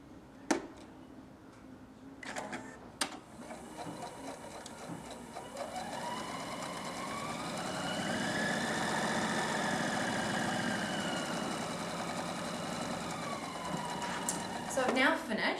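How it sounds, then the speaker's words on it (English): A sewing machine stitches lines through a chenille cushion, its steady mechanical whir running continuously after a few sharp clicks at the start, growing slightly louder midway, with no talking. "So I've now finished sewing all my lines through my heart."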